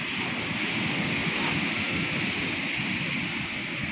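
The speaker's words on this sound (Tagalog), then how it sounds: "Lalo na dun oh, lalaki ng alon." Large ocean waves produce a continuous broad roar of surf mixed with wind buffeting the microphone, steady and unbroken throughout.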